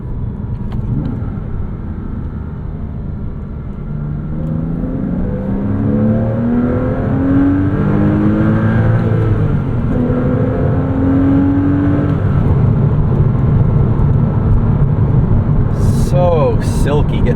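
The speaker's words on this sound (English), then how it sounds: "Listen to those harmonics. Porsches always have like this whine to them." A 2006 Porsche Cayman S accelerating from inside the cabin, its engine building a rising, harmonic whine over a steady road rumble that grows louder as speed climbs, with a voice talking over it.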